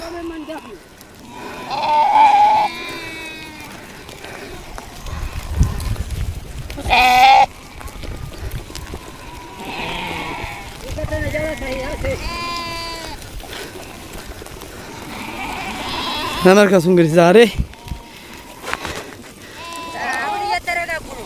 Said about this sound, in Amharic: 1000 በግ ነው ዛሬ የተገዛው ማለት ነው። እየበሉ ነው አሁን